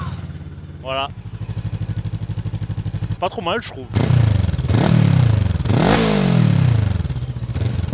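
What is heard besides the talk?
A2 motorcycle engine starting, idling and revving with exhaust baffle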